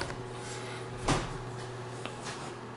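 An interior door in a house pantry swings with one solid knock or thud, then a lighter click a second later, over a steady room hum with no talk.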